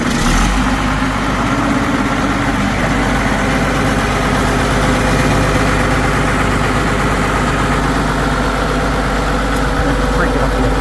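A 1986 John Deere 4050 tractor engine idles close by, a loud, steady low rumble with constant vibration that holds evenly throughout.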